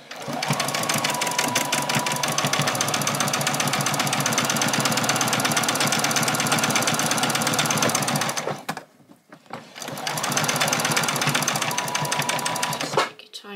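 A sewing machine stitches fabric bag pieces in a long, steady run of fast needle chatter, stops briefly, then resumes for a second stretch, loud and close throughout.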